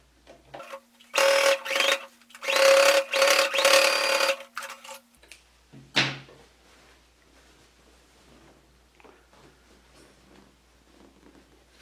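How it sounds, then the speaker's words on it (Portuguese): An electric sewing machine stitches a seam along the side of a bag, running in several close, buzzing bursts separated by short pauses, followed by a clunk and quiet handling. "Vou passar uma costura aqui, ó."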